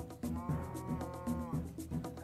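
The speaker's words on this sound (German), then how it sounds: "Ach, das war eine Kuh." A cow in the video game Minecraft moos in a few close, low, drawn-out calls in quick succession.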